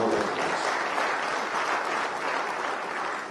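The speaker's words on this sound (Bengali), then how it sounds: "আমাদের অনূর্ধ্ব সাফ 20 ফুটবল টিমের চ্যাম্পিয়ন দলের চ্যাম্পিয়নরা, তাদের জন্য একটি করতালি আমি আহ্বান করছি" Dense, steady applause rolls from a large crowd honouring the under-20 SAFF football champions at a sports council stadium event, sustained and even throughout.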